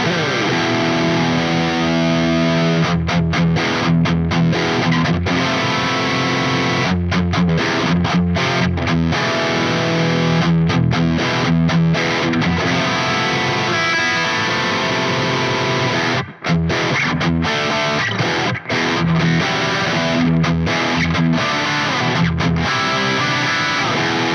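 Heavily distorted electric guitar plays continuously through a Neural DSP SLO100X high-gain amp, thick and loud, with chugging rhythmic stops and chords ringing out.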